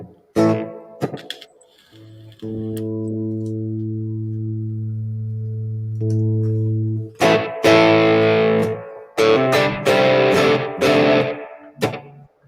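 Electric guitar playing a sustained distorted chord that rings out, then bursts of strummed, heavily distorted chords with a washy reverb tail, loud and close.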